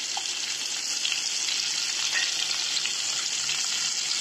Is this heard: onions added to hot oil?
yes